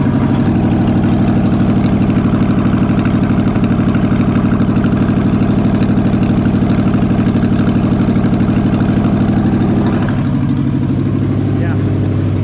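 A 1979 Ford Bronco idles with a rotted-out exhaust manifold, a steady loud engine rumble throughout that drops slightly in level near the end, with people talking over it.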